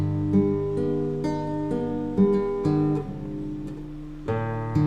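A guitar is slowly finger-picked, steady plucked notes moving back and forth between two chords, clear and close, played alone at a gentle beginner's pace.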